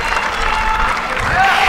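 A tennis crowd at a WTA 125 women's tournament in Mumbai roars and applauds in a dense, steady wash of cheering and clapping that swells slightly toward the end.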